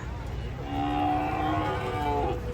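Cattle moo loudly and close by as they are unloaded from a truck, a long drawn-out low call with harmonics rising in the middle, with people speaking nearby.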